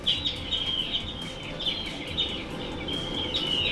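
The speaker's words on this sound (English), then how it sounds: "you got seabirds and the sea" Seabird calls repeat as bright chirping cries over a steady, continuous wash of sea noise in a looping video game ambience, the birds close and fairly loud with no speech.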